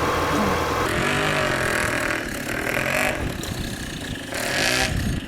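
A Rokon off-road motorbike engine revs hard and close, its loud mid-pitched roar rising and falling with clattering mechanical noise throughout.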